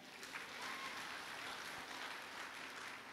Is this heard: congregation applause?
yes